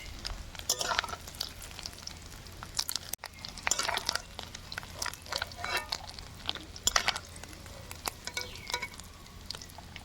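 Fish roe frying lightly in oil in a pan, a soft, steady sizzle broken by frequent scraping stirs and small wet crackles, heard close and alone.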